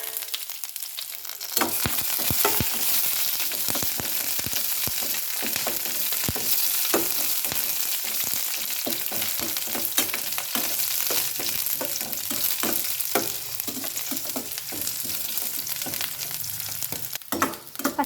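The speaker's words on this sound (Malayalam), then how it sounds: "കടുകും ഉലുവയൊക്കെ പൊട്ടി തുടങ്ങിയിട്ടുണ്ട്" Mustard seeds and fenugreek splutter and crackle in hot oil, a dense, continuous sizzle peppered with rapid sharp pops, close and fairly loud throughout.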